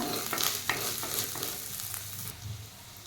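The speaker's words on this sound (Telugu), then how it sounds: "ఇప్పుడు ఇలా హాఫ్ టేబుల్ స్పూన్ పసుపు వేసుకోవాలి ఇదంతా కలుపుకోవాలండి" Turmeric being stirred into a spice paste frying in a pan for spicy mutton liver fry, with steady close sizzling and repeated scraping strokes of the spoon, no voices.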